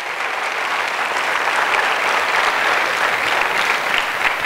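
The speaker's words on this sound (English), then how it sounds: "Give a round of applause." Sustained, dense applause from an audience at a stage hypnosis show for high school students, loud and steady throughout with no voices over it.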